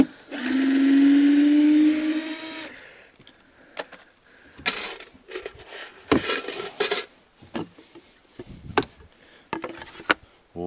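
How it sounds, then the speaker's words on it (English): A small filter pump from an Intex inflatable pool, fitted under a hot tub frame at an off-grid cabin, whirs steadily for about two and a half seconds and then cuts off. Scattered clattering knocks follow, with no talking. "That's actually got a pool pump in it from one of those little Intech inflatable pools"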